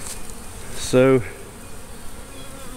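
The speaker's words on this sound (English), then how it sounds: "there's a lot of bees out foraging" Honeybees buzz loudly around a blocked hive inside a tree during a trap-out, a dense harmonic drone swelling close for about a third of a second before fading back into a steady hum of foraging bees.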